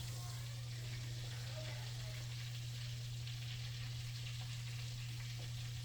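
Trout fries in a pan in a cold garage, giving a steady broadband sizzle with a strong low mechanical hum underneath throughout.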